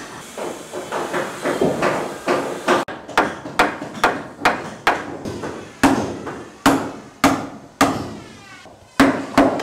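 Hammer blows strike wood during traditional handmade construction of an Indonesian wooden sailboat. About a dozen sharp, close, loud impacts come in a fairly steady rhythm, with a hissing background early on.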